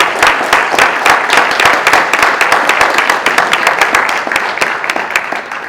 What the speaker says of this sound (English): Can we give her another big round of applause?